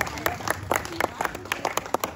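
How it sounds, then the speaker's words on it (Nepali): Sparse, light clapping from a small audience at a children's home talent show in Nepal, a thin scattering of claps with talk mixed in over a brief stretch. "म अघिदेखि हेर्दैछु ताली एकदमै सानो सानो आउँदैछ"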